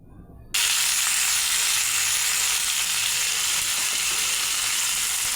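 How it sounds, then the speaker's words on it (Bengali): Chopped pointed gourd (potol) dropped into hot oil after frying potatoes, bursting into a loud, steady sizzle that starts abruptly and continues evenly without talk. "এবার কেটে রাখা পটলগুলো ভেজে নেব"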